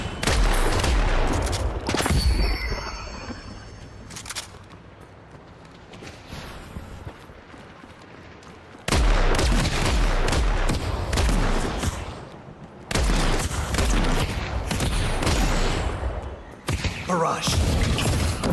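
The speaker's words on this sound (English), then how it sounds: "Barrage." A sustained barrage of gunfire, dense, loud overlapping blasts and cracks that roll on for long stretches, briefly easing before surging again.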